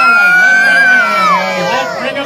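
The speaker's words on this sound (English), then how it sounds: "the more you each cheer and clap and yell" A grandstand crowd at a freestyle motocross show at the Markham Fair cheers and yells loudly and steadily, with high whoops and shouts rising over the dense roar. Distinct clapping is not clear.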